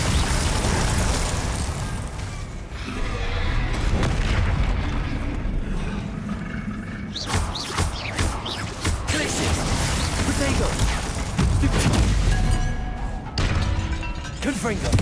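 Bombarda and Confringo spell explosions in the video game Hogwarts Legacy thud and crash in a steady, busy barrage of booms and smashes, with a voice calling out over the clamor.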